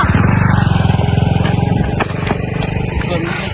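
A motorcycle engine putters steadily nearby with a rapid pulsing beat, loud throughout and running under people talking.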